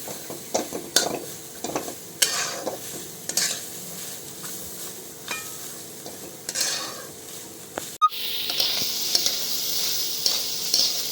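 Onion dry-roasting in salt in a pan for onion chutney, with intermittent scraping stirs and light clinks of a utensil, then a brief break and a steady hiss toward the end.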